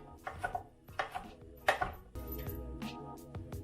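Knife slicing trumpet mushrooms on a cutting board, a series of crisp close taps and cuts in irregular bursts, with a steadier stretch of board contact near the end.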